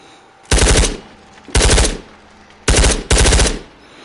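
Rapid automatic gunfire in the VR shooter Ghosts of Tabor comes in four loud, close bursts, each a quick rattle of shots, with short gaps between the first three and the last two firing almost back to back.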